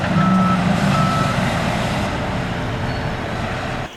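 A large dump truck on a construction site sounds its reversing beeper over a loud, continuous engine rumble and roadway noise, the beeps clearest early on before the engine drone dominates.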